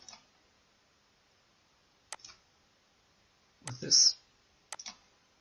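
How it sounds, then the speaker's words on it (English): A computer mouse clicked a few times in quiet surroundings, sharp isolated clicks spaced seconds apart, with a brief murmur of talk in the middle. "Right click, hit OK."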